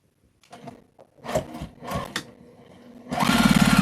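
A sewing machine back stitching a quilted mug rug made from fabric scraps, starting with a few short stops and bursts, then running in a steady, close, loud stitching whirr at the end.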